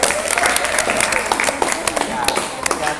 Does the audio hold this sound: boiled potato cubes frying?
no